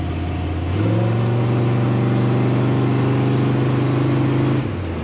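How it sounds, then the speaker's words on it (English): A 1967 Chevrolet pickup truck engine starts up and holds a steady, rumbling exhaust drone for a few seconds before cutting back to a quiet idle. "Lots of power when you get on the throttle and a great exhaust note."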